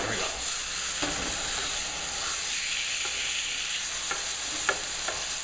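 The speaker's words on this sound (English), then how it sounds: "I just want to get that flavor on there, flip my steak over, and get more flavor on the other side." A porterhouse steak searing in a hot pan with onions, giving a steady moderate sizzle with scattered scraping ticks as the meat is moved around, no talking.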